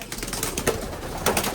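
Pure Vandenbroek racing pigeons coo softly in a loft, low murmuring calls repeating over a steady background with a few louder bursts.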